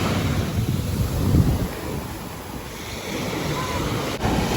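Waves wash onto a beach in Grenada at sunset, a loud continuous surf roar that swells and eases, mixed with gusty wind buffeting the microphone.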